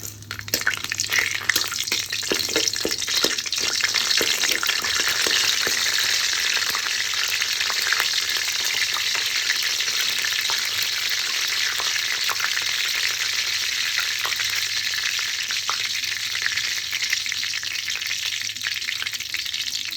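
Cloves, cardamom, cinnamon and bay leaves fry in hot oil, giving a loud, steady, close sizzle that holds for the whole stretch with faint stirring clicks and no talk.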